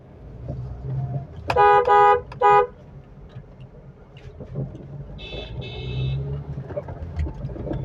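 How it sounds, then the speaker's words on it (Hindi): Several loud blasts of a car horn from an Innova close behind, a short burst of honks followed by another, over steady city traffic and engine rumble, with a fainter horn from elsewhere in the traffic afterward. "भाई पीछे से इनोवा मेरे को हॉर्न लगाए जा रही है"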